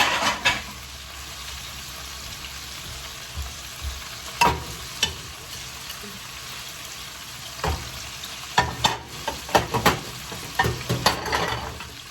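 Chicken searing in a hot pan makes a continuous low frying hiss, with scattered sharp clatters and scrapes that bunch up toward the end, close by and without voices.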